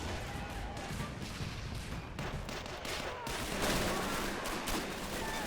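British mortars and small arms fire in the Men of War: Assault Squad war game, a dense, continuous barrage of overlapping shots and distant blasts during a hill fort siege.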